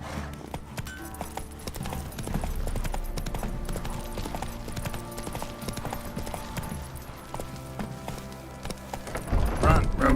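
Roach, the horse in The Witcher 3, gallops in a steady, rapid clip-clop of hooves, with game music and a voice layered over the hoofbeats.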